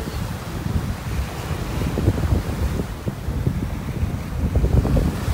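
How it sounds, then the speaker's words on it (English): Strong gusts buffet the microphone with a low rumble on a beach in North Naples, Florida, and surf can be heard faintly beneath the wind. "It is really windy out here"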